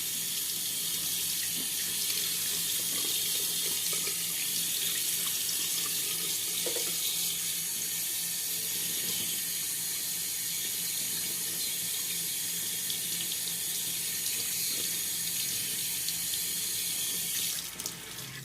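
Water runs steadily from a bathroom tap into a sink, a continuous even hiss and splash that stops abruptly near the end.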